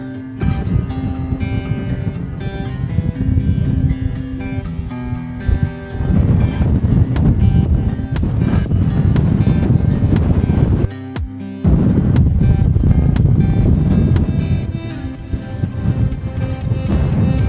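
Strong gusty wind buffets the microphone on the Mam Tor summit trail in England's Peak District on a rainy day, loud low roaring blasts that drop out briefly a couple of times before surging back.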